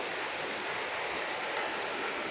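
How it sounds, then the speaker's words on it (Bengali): Heavy evening rain pours down in a dense, unbroken rush with a constant spray of drops hitting surfaces nearby, loud and steady throughout, with no talking. "তো এখন খুব জোর বৃষ্টি পড়ছে।"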